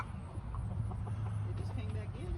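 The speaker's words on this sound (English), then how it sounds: "Are you talking to the chickens over there?" Chickens cluck softly and intermittently on a farm, mid-distance, under a steady low engine rumble from a nearby tractor, with faint background voices.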